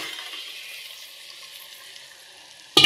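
Chicken pieces dropped into hot oil for a chicken and rice lunch, giving a continuous bright sizzle at close range that holds steady, then ends in a sudden loud clatter.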